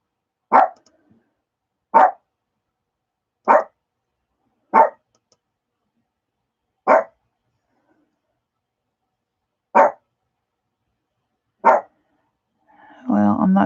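Dogs bark in single sharp, evenly spaced yaps, about eight of them spread over several seconds with silence between, close and clear, followed at the end by a short burst of other noise.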